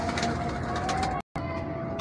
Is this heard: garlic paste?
no